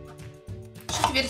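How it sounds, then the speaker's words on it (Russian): A knife cuts an onion into quarters, with faint low tapping at first, then a louder burst of crisp slicing and board knocks near the end. "Далее режем лук"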